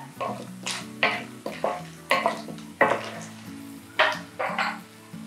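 Groundnuts fry in oil in a pan for hotel-style lemon rice while a spoon stirs them in repeated scraping strokes, about eight distinct bursts over a steady sizzle, close and moderately loud.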